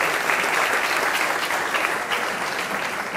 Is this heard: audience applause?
yes